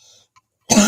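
A single harsh cough bursts out close to the microphone after a moment of near silence, loud and abrupt.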